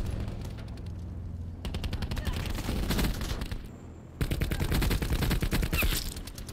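Rapid bursts of Swordfish burst-rifle gunfire in a Black Ops video game, loud and dense, with a short pause between two sustained stretches of shooting.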